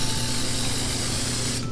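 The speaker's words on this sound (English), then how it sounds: "give it a little spray down" Spray cleaner hisses in a continuous loud, close spray for nearly two seconds, then cuts off abruptly, while reassembling a Predator 212 small engine.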